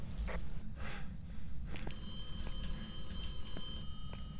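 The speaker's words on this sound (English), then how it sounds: "Yeah, the phone." Phone ringing in a video game, a thin electronic ring tone with sharp onsets and sustained high tones over a low background rumble.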